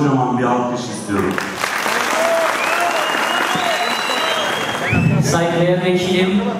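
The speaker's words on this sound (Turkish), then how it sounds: "Ercan başkanıma kocaman bir alkış istiyorum." Loud, sustained applause from a packed hall audience at a Turkish cultural night for Ercan başkan, dense clapping throughout with voices and music-like tones mixed in, swelling again near the end.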